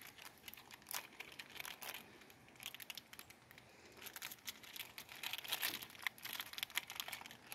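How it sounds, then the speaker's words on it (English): A bag of peanuts is torn open and handled, producing quiet, irregular bursts of plastic crinkling and rustling close to the microphone. "You can open up your bag of peanuts."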